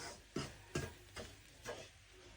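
Semolina being stirred and roasted in oil and butter in a pan, with soft sizzling and about five distinct scraping stir strokes at an irregular pace, close and quiet.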